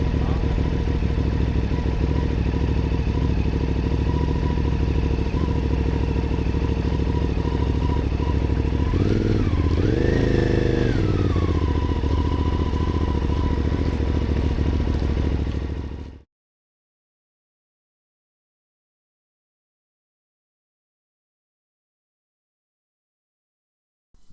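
A CFmoto 450 MT adventure motorcycle engine runs at a steady hum, rises briefly as it revs and then settles, before the sound cuts off abruptly into silence.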